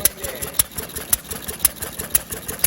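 Antique Odd Ball engine, roughly 80 years old and running rich, chugging close by with regular sharp exhaust beats about every half second over a low mechanical rumble.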